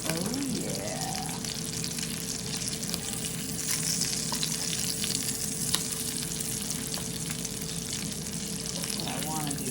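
Roman sausage patties fry in a pan with a loud, continuous sizzle and crackle that holds steady throughout, close up, with a few faint clicks and scrapes.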